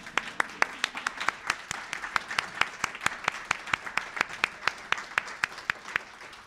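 An audience applauds at the launch of the Voting Rights Institute at Georgetown Law, with a sparse, steady run of distinct claps over dense background clapping, moderately loud and fairly close.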